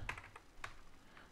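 Typing on a computer keyboard while writing an email in Outlook: a few quick, quiet key clicks close by, in two small bursts with a short gap between.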